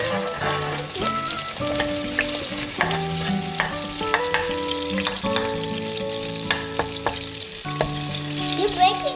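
Chopped onions sizzle steadily in a hot pan for a chicken curry, with frequent scraping and clattering as a utensil stirs them.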